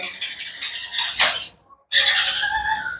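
Yellow ringneck parakeets of Netherlands bloodline, kept as birds for sale, give harsh, bright squawking calls in two close, loud bursts split by a short gap.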